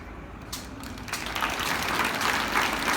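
Applause from a school audience at a St Mary Convent School traffic awareness event, a dense crackle of clapping that swells and thickens toward the end, fairly loud and continuous with no talk over it.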